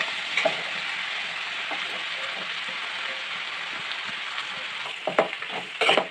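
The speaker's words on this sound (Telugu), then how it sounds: "కట్ చేసుకున్న బీరకాయ ముక్కలు వేసుకుంటున్నాము" Ridge gourd pieces tumble into a pan of frying onions with turmeric, giving a steady close sizzle with a few louder crackles and spatters near the end.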